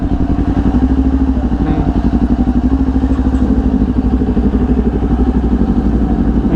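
Big bike motorcycles idle nearby, producing a loud, steady, throbbing engine rumble with an even pulsing beat that continues throughout.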